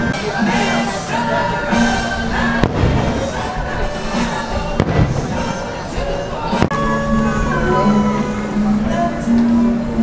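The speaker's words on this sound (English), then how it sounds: "will we have a spot for the fireworks?" Fireworks burst at Disney's Animal Kingdom Lodge, with several sharp bangs and thuds spaced a couple of seconds apart over a continuous background of crowd murmur and a steady tonal drone.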